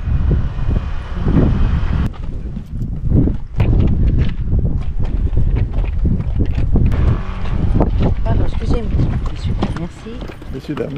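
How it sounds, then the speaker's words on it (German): Wind buffeting the microphone on a warm day at a beach on Île de Ré, France, a loud continuous rumble with gusts, heard under people talking. "es ist doch ziemlich warm, aber trotzdem Wind"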